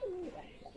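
Low coo of a domestic pigeon, a single near, fairly soft call that slides downward, with no voices over it.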